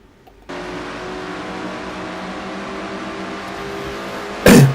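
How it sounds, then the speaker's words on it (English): Dodge Challenger stock car heard from on board in a racing simulation, a steady loud engine drone at high speed that holds for several seconds, ending in a sharp louder burst. "On board Keith Batson's car as he rides in 5th position."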